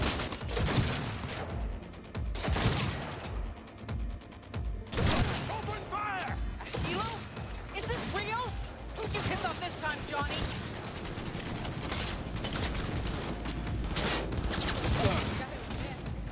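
Gunfire from a gun in Cyberpunk 2077, sounding as repeated bursts of shots with mechanical clatter over a busy game soundscape, mixed with voices and effects throughout.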